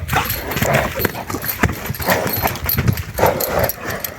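A stallion's hooves clip-clop in a steady, uneven trot close by while being ridden, with a few voices and other noises mixed in.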